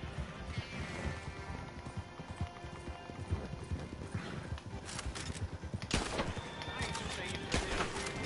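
Horse hooves clip-clop in a video game, with a few neighs and gunshots mixed into a busy, fairly loud scene as players talk over it.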